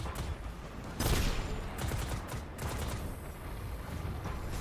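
Gunfire and bombardment in the video game Destiny 2: The Edge of Fate: dense, continuous crackling fusillade with a heavier blast near the start, steady and fairly loud throughout, with no voices.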